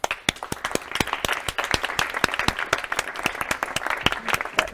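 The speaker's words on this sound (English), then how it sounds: "Let's give a big round of applause for our crew, for our partners, for our sponsors, for our speakers." Audience applause at a conference or talk, a crowd clapping steadily with many distinct hand claps, moderately near and fairly even throughout, with little talk underneath.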